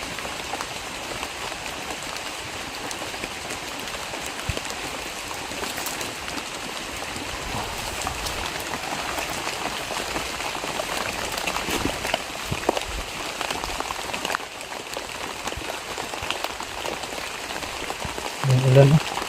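Steady rain falls through the night at a hunters' overnight camp, a continuous dense patter of drops on surfaces that holds at an even level from start to finish, with a brief thump near the end.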